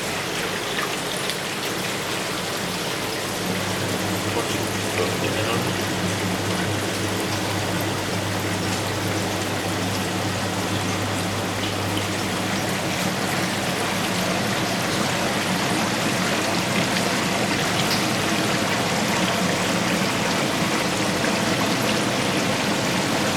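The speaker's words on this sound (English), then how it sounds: "And all we've got to do now is let that water go down the drain. If I open this drain valve again." Water from an Evolution Aqua Nexus 310 aquarium filter rushes steadily down the drain through an open drain valve, a loud continuous gushing and splashing stream throughout, with no talking.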